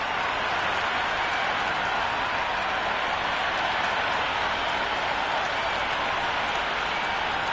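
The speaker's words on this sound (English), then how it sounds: "The crowd are making a heck of a lot of noise even before the first ball's been bowled." Stadium crowd roaring steadily in a cricket video game at a T20 Big Bash match between Pattoki Warriors and Sydney Sixers, a dense continuous wash of cheering and clapping throughout with no break.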